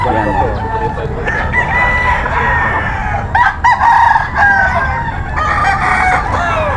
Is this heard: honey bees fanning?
no